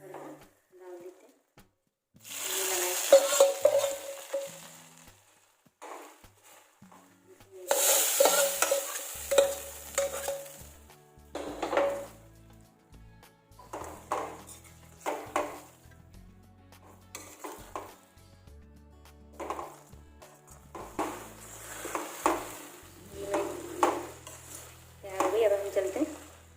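A spoon stirs tadka into Masala Maggi noodles in a pan, with sizzling bursts and soft scraping and clinks against the pan, coming and going in uneven, close-up strokes.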